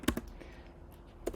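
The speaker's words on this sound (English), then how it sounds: "I'm going to type" Typing a prompt on a computer keyboard, a few quiet nearby key clicks in a short irregular burst, with a brief pause before the last taps.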